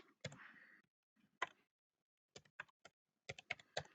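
Quiet bursts of computer keyboard typing, clusters of crisp clicking keystrokes separated by brief silent pauses, close and faint.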